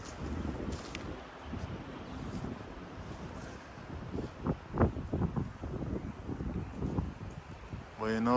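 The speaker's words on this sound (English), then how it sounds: "As you can see the wind, it's kicking up, it's very windy." Strong outdoor wind gusts and buffets the microphone in uneven bursts, with loud rumbling swells and rustling, and a faint voice now and then beneath the blowing.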